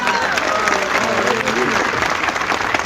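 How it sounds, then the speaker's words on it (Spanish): Loud, dense audience applause welcoming a guest at a religious discussion gathering, steady clapping throughout with a voice talking faintly over it. "Un fuerte aplauso para él."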